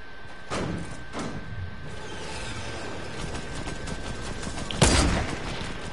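Sniper rifle shots in a shooter video game ring out as a few separate sharp cracks, two close together early and a louder one near the end, over a low steady background.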